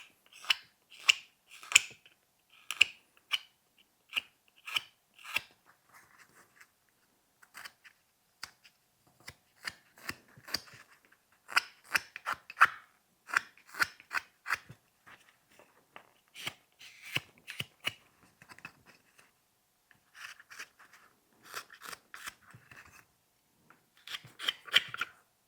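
A knife carves end grain on a small wooden snowman ornament, cutting at the top of the hat. Close, dry scraping cuts come in irregular bursts with brief pauses between them, and nobody speaks.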